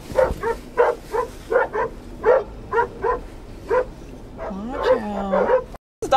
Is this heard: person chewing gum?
no